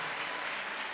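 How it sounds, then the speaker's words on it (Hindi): An audience claps together at the Jashn-e-Etawah 3 gathering in Etawah, a brief, steady, fairly quiet wash of many hands lasting about a second. "तालियां बजा के बताइए एक बार कितने जिंदा हैं"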